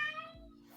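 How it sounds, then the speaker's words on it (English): A cat yowls in one short drawn-out cry with a falling pitch, fairly faint and heard on its own. "Someone's cat yelling."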